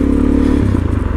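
A motorcycle engine chugs at low speed while the rear brake alone slows it on loose gravel, a close, loud pulsing rumble with a faint scraping crunch beneath it.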